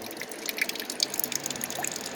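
Coolant drips and trickles steadily from the radiator drain of a Chevy Uplander, a quick irregular patter of small drops splashing close by with no talking.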